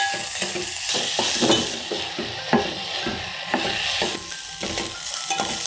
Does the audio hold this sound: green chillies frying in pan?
yes